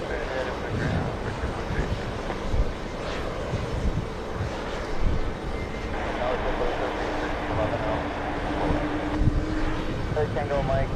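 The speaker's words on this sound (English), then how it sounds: "And there goes the A380." Airbus A380 at JFK airport, a loud continuous roar of jet engines with rumble and wind noise, steady throughout, with a voice speaking over the noise.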